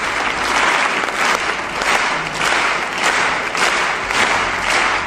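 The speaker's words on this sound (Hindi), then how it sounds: "इस वीडियो में ऑडियंस एक परफॉर्मेंस के लिए तालियां बजा रही है।" Audience applause for a performance, loud and dense, sustained throughout with a faint rhythmic pulse, as though the clapping is drifting into unison.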